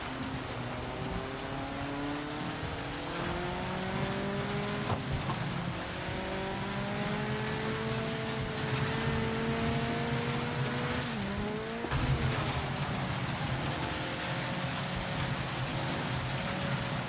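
Race cars roar through a lap of an Xbox Series X racing video game, engines droning steadily with rising and falling pitch as gears shift, a continuous loud mechanical wash with no talking.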